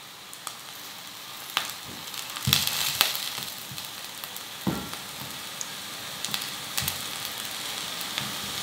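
Eggplant frying in a small amount of oil in a pan, a steady sizzle with scattered sharper pops and crackles, close and moderately loud, no voices.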